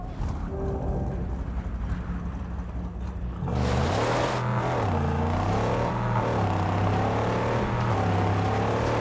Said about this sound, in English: Rev it up and go, Saint. The buggy's humble, but she can haul!